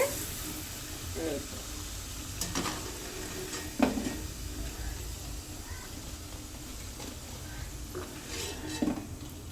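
Lightly parboiled potatoes fry quietly in a pan, a soft sizzle under occasional spatula scrapes and metal clinks as they are stirred, spaced a few seconds apart.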